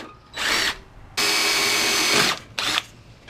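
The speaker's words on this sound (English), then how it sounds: "I have to remove the fender bolt right here so I can push the fender out a little bit" A power tool spinning out a fender bolt on a Honda Pilot during an engine replacement, three loud close whirring bursts: a short one, a longer steady run, then a brief final burst, no talking.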